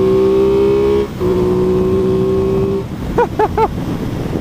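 An Aprilia Tuono 660 motorcycle idles with a steady tonal hum, dips briefly, then settles before three quick sharp throttle blips rise and fall in succession.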